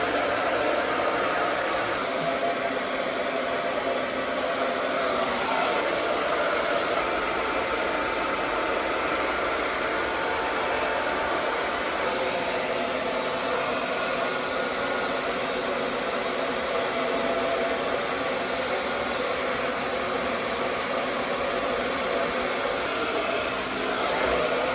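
A hair dryer fitted with a diffuser blows steadily while drying natural curly hair for a wash and go, a loud, even, continuous whoosh lasting throughout with no talking.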